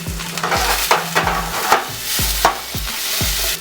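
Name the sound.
vegetables frying in a hot pan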